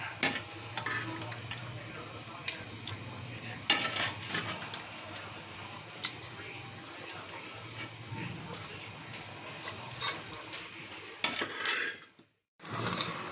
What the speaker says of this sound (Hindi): तो यहाँ गोश्त गल चुका है और हम डाल देते हैं इसको पतीले में और अच्छे से हम इस गोश्त को और भून लेंगे।